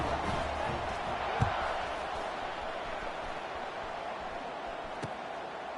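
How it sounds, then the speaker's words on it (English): A stadium crowd at a South Alabama versus Florida Atlantic college football kickoff gives a steady, distant roar of cheering, with a few faint thuds above the wash of voices. "this crowd now ready to get behind them"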